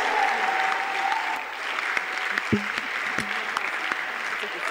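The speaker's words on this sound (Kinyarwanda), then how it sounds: "Clap your hands for the Lord." A church congregation claps together during a sermon, a dense, steady wash of hand clapping that continues for the whole stretch, with a voice rising briefly above it.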